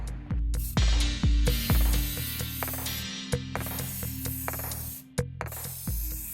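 A spray can hisses finish onto a wooden dice box in short bursts, separated by sharp clicks and knocks of the can and workpiece, close and loud.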